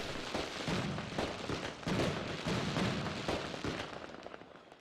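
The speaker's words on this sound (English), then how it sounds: "Get to see those nice fireworks we earned in the last video." Fireworks in the Mars colony-building game Surviving Mars crackle and pop in a dense, continuous barrage of bursts, loud and steady with no talking.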